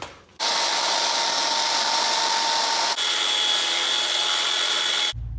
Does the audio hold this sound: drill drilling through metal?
yes